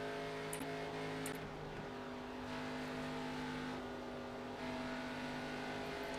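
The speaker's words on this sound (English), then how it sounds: "I hear a fast car coming." A race car engine in the iRacing video game, during an ARCA Series race at Atlanta Motor Speedway, drones steadily at high revs, a sustained loud whine with faint higher tones layered over it.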